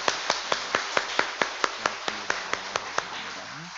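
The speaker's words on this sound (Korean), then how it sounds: "우리 하나님께 영광의 박수를 하십니다." A Korean church congregation claps in unison at a steady, quick beat, about four crisp claps per second, with a voice starting to speak near the end.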